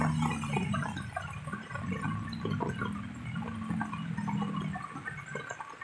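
Floodwater after heavy rain rushes along Jalan Dua Batu like a river, producing a constant, fairly faint wash of flowing water with small splashes and gurgles and no voices.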